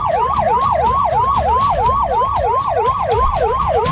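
An ambulance siren wails in a steady, rapid up-and-down cycle, loud and close, continuous throughout with no talking over it.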